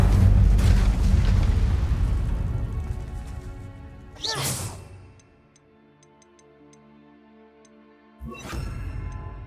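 Incendio fire spell blast in the video game Hogwarts Legacy: a loud low rumbling boom that decays over a few seconds, followed by two sharp whooshing bursts with small ticking sounds between them.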